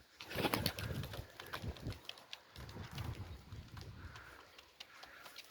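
Pigeons flutter and shuffle close by, with soft cooing and brief wing flaps against a faint outdoor background.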